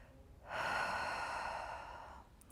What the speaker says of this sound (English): Let's stay for one more deep breath.